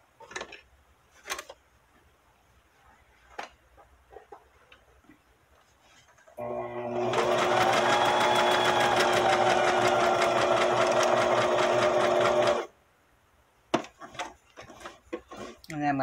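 A sewing machine runs a single straight stitch at stitch length 3.5 across a journal cover, a steady loud whirring burst of about six seconds with quiet tapping and handling before and after.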